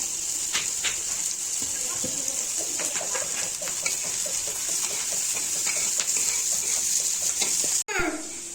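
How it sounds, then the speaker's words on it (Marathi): Leafy vegetables are washed under a steady stream of running water, a continuous splashing gush with a few handling clatters and a sharp knock near the end. "भाजी धुवून घेतली मस्त स्वच्छ"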